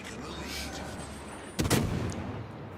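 American 127 mm naval guns firing in World of Warships, a single sharp, loud booming report that cuts in over steady background ambience, with a short rumbling tail.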